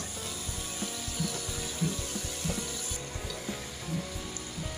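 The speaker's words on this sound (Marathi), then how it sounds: "तेलामध्ये राई व कांदा घातलेला आहे" Mustard seeds and onion fry in hot oil for a raw jackfruit dish, a steady close sizzle with small rhythmic ticks and pops running throughout.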